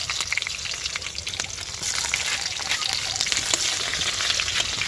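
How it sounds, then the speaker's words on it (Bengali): Onions frying in hot oil in a pan, with potatoes and meat set aside nearby, producing a loud, dense, continuous crackling sizzle close up throughout. "আগে পেঁয়াজটা ভেজে নিই"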